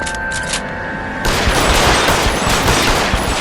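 Heavy sustained gunfire in L.A. Noire. A loud, continuous barrage of overlapping shots takes over after a brief quieter lead-in and keeps up without a break.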